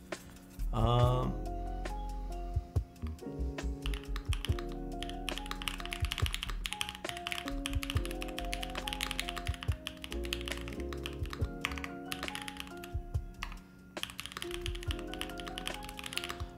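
Clacky typing on a custom Lamy TKL mechanical keyboard as emails are written, with rapid uneven keystrokes throughout and music playing underneath.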